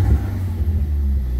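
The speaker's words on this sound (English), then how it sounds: "Did it just backfire at me?" A Ford Focus ST with a performance calibration revs hard close by, a loud steady low engine roar with a brief rougher pop near the start, and no voices over it.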